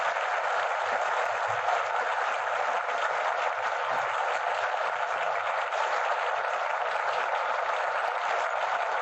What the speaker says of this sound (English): Your applause calls tonight's stars back to the footlights.